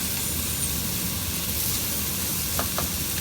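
Shrimp and mixed vegetables stir-fried together for Pinoy-Chinese fried rice, a steady broadband sizzle and hiss under quiet stirring, with a couple of faint scraping clicks near the end.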